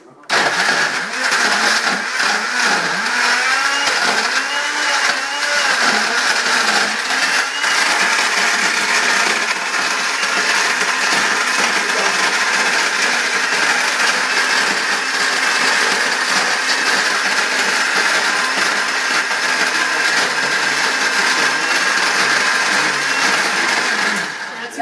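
An electric blender whirs loudly and steadily while blending a milkshake, a continuous high-pitched motor roar with a churning, uneven texture that runs close and unbroken throughout.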